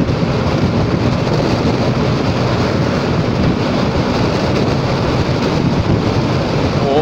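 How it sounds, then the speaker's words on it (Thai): Strong wind roars across the microphone of a Forza 300 scooter riding over a bridge, a steady dense rush of buffeting and road noise throughout with no letup. "ลมพัดแรงครับบนสะพาน"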